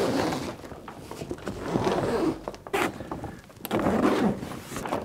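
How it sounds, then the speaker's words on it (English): Zipper being drawn closed along the fabric of a TomatoTent mini grow tent, heard as several close, loud ripping pulls with brief pauses between strokes. "then you close the zipper"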